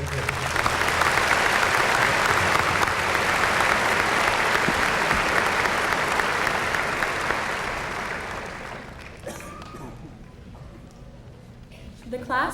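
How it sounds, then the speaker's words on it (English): A large crowd at a 2000 high school graduation ceremony in Russellville applauds, loud sustained clapping that fills the hall for about eight seconds before fading out, followed by a brief quieter pause. "Please share a round of applause for these individuals."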